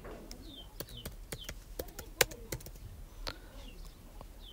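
Rapid clicking of keys on a Mac keyboard, with irregular taps and louder presses while a search is typed, over a faint room background with pigeons or doves cooing in the distance.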